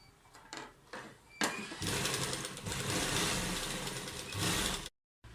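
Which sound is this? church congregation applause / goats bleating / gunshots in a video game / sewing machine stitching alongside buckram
sewing machine stitching alongside buckram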